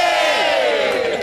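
A crowd at an outdoor home dedication ceremony shouts and cheers together in one loud, sustained burst of voices, trailing off after about a second.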